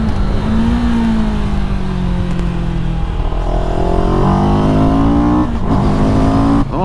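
A CFMOTO 700CL-X motorcycle engine drones steadily and loudly up close while being ridden hard through tight corners, its pitch rising and falling with throttle changes, with a sharp dip and recovery near the end.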